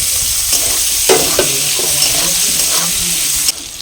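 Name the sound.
chopped tomato frying in a pan with turmeric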